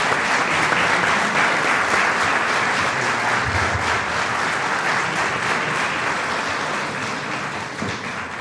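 An audience applauds steadily in a large hall as a professor is introduced at an academic ceremony. Loud, continuous clapping fills the room and eases off gradually near the end.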